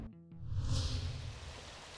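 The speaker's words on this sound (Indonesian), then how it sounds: "tiba-tiba hujan turun dengan sangat deras" Heavy rain pours down suddenly on the road to a venue near Bogor, a dense steady hiss with low rumble that swells after a brief quiet start and stays loud and close.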